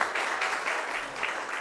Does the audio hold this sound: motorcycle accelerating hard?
no